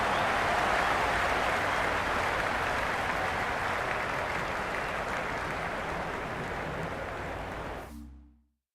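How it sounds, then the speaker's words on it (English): Crowd noise from a stadium in the Cricket 26 video game, a Big Bash League match between Adelaide Strikers and Brisbane Heat: steady, loud applause and cheering holds for about eight seconds, then cuts off abruptly. "the excitement emanating from this crowd at the moment"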